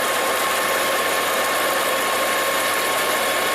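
Ford car engine idling, a steady broadband hum with a faint mechanical ticking, close and continuous with no talk.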